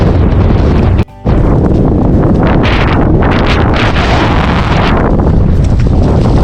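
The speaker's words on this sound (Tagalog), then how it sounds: "Pasensya na po kayo at mahangin po. Maingay." Heavy wind buffets the microphone with loud, constant rumbling, broken by one brief dropout.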